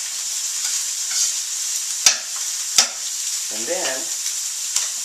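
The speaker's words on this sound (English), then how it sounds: "I'm putting the stems in now because they're just a little bit thicker, take a little bit longer to cook. Just sauteing up." Kale stems sautéing in a pan give a continuous hiss broken by two sharp utensil clacks and stirring scrapes, with a brief voice heard over it.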